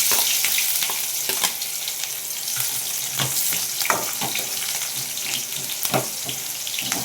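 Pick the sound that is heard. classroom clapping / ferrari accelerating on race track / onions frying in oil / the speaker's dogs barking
onions frying in oil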